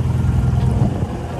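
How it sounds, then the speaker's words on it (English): An idling boat engine just started at a dock at Staniel Cay gives a low, steady rumble close by, brief and even, with no voices. "I just started up the engine"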